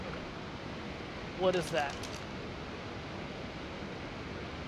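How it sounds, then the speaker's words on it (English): A waterfall in the video game Ark: Survival Evolved gives a steady, wide rushing roar that runs unbroken throughout, while a voice briefly speaks over it partway through. "I hear a waterfall. There's a waterfall there."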